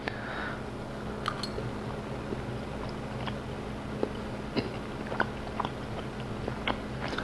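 Someone chews a hot bite of gluten free chicken pasta bake, with soft wet mouth clicks and occasional sharper smacks scattered over a steady low room hum, close to the mic and with no talking.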